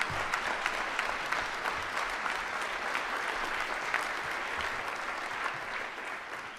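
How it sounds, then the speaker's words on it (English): An audience at a State of the City address claps steadily in sustained applause, a dense, even patter of many hands that holds for several seconds. "Let's give them a round of applause to thank them."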